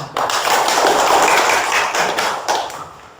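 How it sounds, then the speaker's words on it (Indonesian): Students in a classroom clap their hands together, a dense, steady burst of applause lasting about three seconds with a few sharper taps near the end and no talking. "Tepuk tangan"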